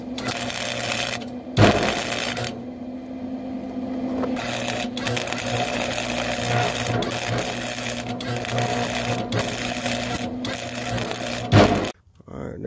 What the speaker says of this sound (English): Get that cleaned up, weld this on there.